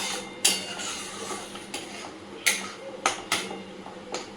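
Cashew paste being added to a cooking pan, giving a few sharp spoon-and-pan clinks and scrapes at irregular intervals over a low kitchen background, fairly close and moderately loud, with no talking.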